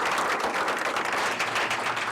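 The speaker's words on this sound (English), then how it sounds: "could you just give both sides a round of applause for me?" Applause from the audience at a university versus junior college debate final, a steady wash of clapping that fills the whole moment.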